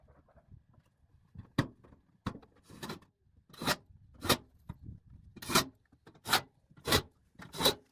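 Steel roofing being screwed down into wood strapping on an off-grid cabin, a series of short rasping grinding bursts in a rough rhythm, growing more regular and closer toward the end, with no voices.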